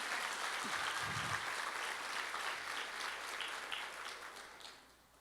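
A church congregation claps continuously, a dense, even wash of applause that holds steady and then gradually fades toward the end, with a brief low murmur near the start.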